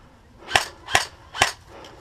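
Three sharp airsoft gun shots crack out in a steady rhythm during an indoor firefight game, each a crisp, close pop with a quick decay and no talking between them.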